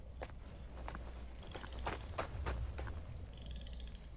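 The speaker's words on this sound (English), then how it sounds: "Thought I heard footsteps." Footsteps in the Viking village-building game ASKA, a series of soft, irregular thuds at moderate distance over a low ambient rumble, with no talking.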